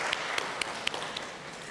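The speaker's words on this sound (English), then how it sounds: "Now, let's give each other a big applause" Audience applause at a medical conference session, a scattering of distinct hand claps over a low steady murmur, moderately loud and brief.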